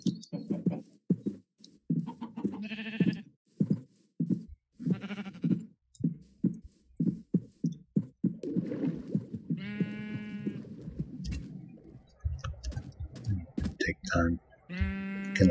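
Blocky sheep in Minecraft bleat in short bursts over the game's ambience, heard several times under a man's near-continuous commentary.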